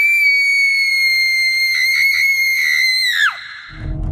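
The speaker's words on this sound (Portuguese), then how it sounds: "Um grito que eu acho que até acordei os vizinhos." A loud, sustained high-pitched scream held steady for about three seconds, then breaking off sharply into a rumbling low noise, heard alone with no talking.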